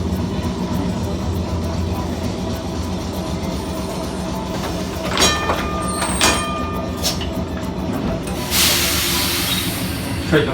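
A Christchurch city tour tram rolls along its street tracks, a steady low rumble with metallic rattles and brief wheel squeals midway, then a hissing burst near the end, heard close and continuous.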